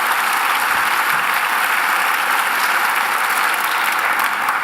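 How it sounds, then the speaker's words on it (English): An audience at a CNCS volunteering and service town hall applauds Senator Harris Wofford: a dense, steady wash of clapping that holds at full strength for the whole stretch, with no voices rising above it. "Can you give Senator Wofford a round of applause?"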